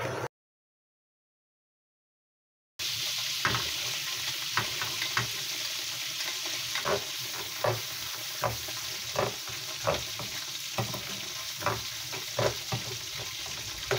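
Onions and curry leaves frying in melted butter give a continuous sizzle after a brief silent gap, with regular spatula scrapes and knocks against the pan recurring every second or so.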